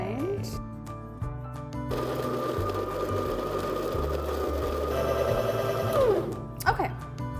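A coffee grinder in a cafe grinds beans for a French press, starting up, whirring loud and steady for several seconds, then winding down, close by, with a voice heard around it.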